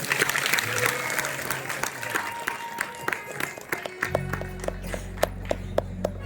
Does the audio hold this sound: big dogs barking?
no